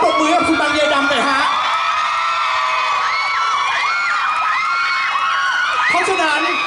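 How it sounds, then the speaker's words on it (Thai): Fans at Bang Yedam's first fan meeting in Bangkok cheer and whoop loudly, a packed crowd of high-pitched shrieks and shouts rising and falling throughout. "ทุกคนปรบมือให้กับตัวเองแล้วปรบมือกับคุณบรรยายดำหน่อยฮะ"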